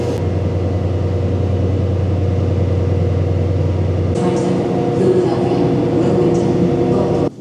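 A train moves through a Newark train station with a steady low rumble that shifts to a rattling, brighter clatter partway through, loud and close, with faint voices around it.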